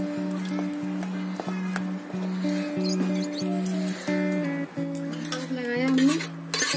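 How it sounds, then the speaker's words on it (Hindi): Rice being added to chicken in a cooking pot, with clattering of utensils against the pot, stirring scrapes and a soft sizzle under tonal background music. "उसके बाद में इसे चावल डालूंगी।"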